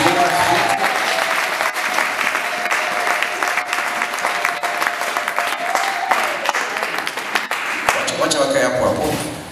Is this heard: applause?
yes